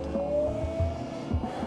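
A TBM 700 turboprop's starter engaging before fuel is introduced, a rising whine over a low mechanical churn with periodic thumps, close and steady.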